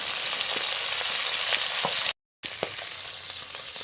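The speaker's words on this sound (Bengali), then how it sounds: "লাউ চিংড়ি রান্না করব কড়াইতে সর্ষের তেল তেলের উপরে কটা চিংড়ি মাছ দেবো" Prawns frying in mustard oil in a wok for a bottle gourd and prawn curry, a steady close sizzle with small pops throughout, broken by a brief silent gap near the middle before the frying resumes.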